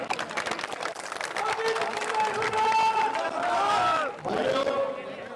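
Large rally crowd in Ambala applauding at a Haryana Congress campaign event, a dense continuous wash of clapping and crowd noise with shouts and voices mixed in, briefly dipping near the end before resuming.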